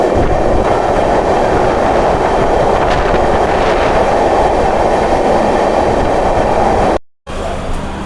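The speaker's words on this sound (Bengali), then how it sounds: "এই টানেলের মধ্যে দিয়ে যেতে হবে।" An express train runs through a tunnel on the line toward Sairang in Mizoram, a loud, dense, continuous rumble and roar of wheels and carriages from onboard, then a sudden cut to silence before the roar resumes.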